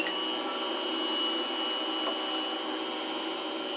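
A vacuum cleaner runs steadily to clear drilling debris from a Storm Phaze V bowling ball in a workshop, a continuous even drone with no speech over it.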